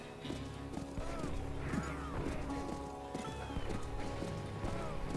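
Horse hooves clip-clop steadily in the Call of Juarez video game while the horse whinnies and neighs several times over a busy, dense game soundscape, fairly close and continuous throughout.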